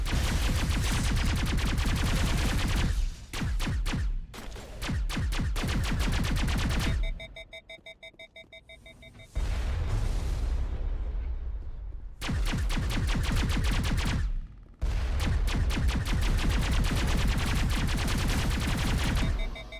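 Sustained automatic weapon fire in the Mass Effect video game pours out in long, loud, rapid bursts, broken by brief gaps and electronic beeping tones.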